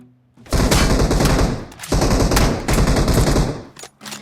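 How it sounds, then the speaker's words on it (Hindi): An M762 assault rifle fires in PUBG Mobile, loud rapid automatic bursts in three sustained strings with short gaps, close and dominant, with no talking over them. "यहाँ पे एक पोरा चलाता है मेरे ऊपर M762"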